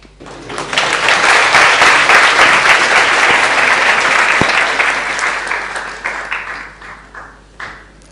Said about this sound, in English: See, they clapped for you.